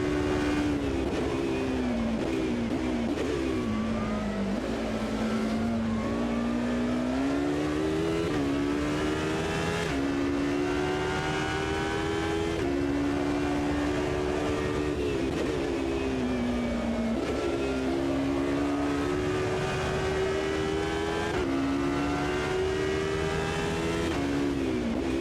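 LMP2 prototype race car engine in the Automobilista 2 sim at Le Mans, a steady loud continuous drone with rising and falling pitch as it shifts gears and accelerates along the circuit, no talking.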